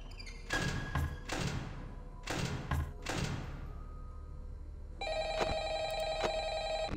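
Telephone ringing inside the horror game Five Nights at Freddy's Ultimate Custom Night: a few dull thumps and taps come first, then a steady electronic ring starts partway through and keeps going to the end.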